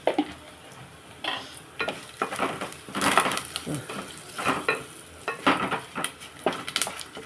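Turmeric and salt frying in hot oil in a pan, a steady sizzle broken by repeated scraping and stirring strokes of a utensil against the pan, close and fairly loud with no talk.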